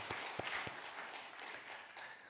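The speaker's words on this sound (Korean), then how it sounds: "우리 다시 한번 주님께 감사의 영광의 박수 올려드리겠습니다" Congregation clapping during an Easter Sunday church service, a brief burst of mixed claps with a few sharp distinct hits early on, fading within a couple of seconds.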